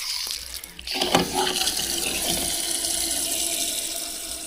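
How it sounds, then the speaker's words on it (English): A garden hose runs water into a car's gas tank, a steady rushing, gurgling flow that starts with a splash and continues loud and close with no talk. "In an attempt to clean the gas tank and not have to take it out, I'll just put the garden hose in it."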